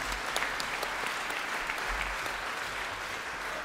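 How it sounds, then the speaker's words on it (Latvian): Warm concert audience applause at a performance, a dense, even wall of clapping hands that sustains steadily without voices on top. "Aplausi vienam no latviešu gaišākajiem, gudrākajiem cilvēkiem"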